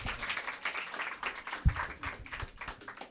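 Crowd at an open mic event claps for a performer after her song, a lively burst of many hands with scattered sharper claps, fairly close and moderately loud.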